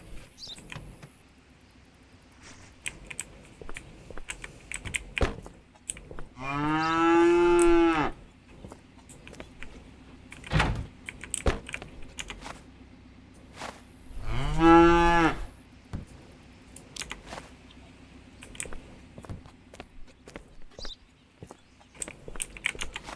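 Cattle mooing in the Contraband Police video game, with two long, loud, drawn-out moos several seconds apart over a quiet background of scattered small clicks and thumps.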